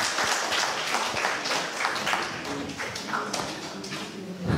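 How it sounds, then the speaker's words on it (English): Scattered applause from a small audience at a talk on Islamic finance, uneven claps and taps of moderate loudness that thin out toward the end. "Let's give him applause once more."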